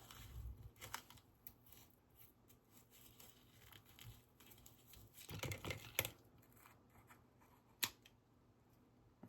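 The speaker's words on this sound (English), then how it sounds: "And snip it off." Scissors snip through string after a knot is tied for a scrapbook project, a few crisp close cuts clustered together and one sharp single snip later over quiet rustling, with no voices.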